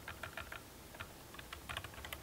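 Quick bursts of keystrokes on a computer keyboard as a project name is typed, close and crisp, in irregular clusters with short pauses between them.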